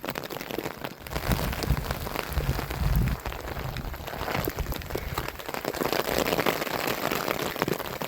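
Rain pattering steadily on an umbrella during a wet, windy walk through the streets of Sointula on Malcolm Island, a dense, close hiss of drops that continues without a break and with no voices.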